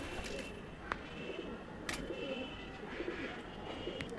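Punjabi pigeons kept for sale coo softly in the background, with low, repeated murmuring calls and a few faint flutters. Someone speaks quietly over them.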